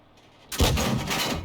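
A single loud artillery blast from a 105 mm leFH18B2 howitzer in a video game, a sharp boom that bursts out of near silence and then rolls into a sustained rumbling tail.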